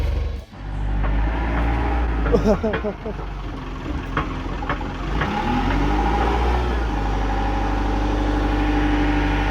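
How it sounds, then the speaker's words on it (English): An air-lubricated, air-cooled Volvo engine starts and runs loud and steady, its low drone holding near with a rising rev, while people talk over it. "I think it's time we start it up and saw how our new air lubricated and air cooled engine goes."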